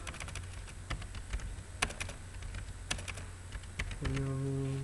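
Fast, close keystrokes on a computer keyboard, an irregular run of sharp clicks over a low hum, ending in a steady electronic tone near the end.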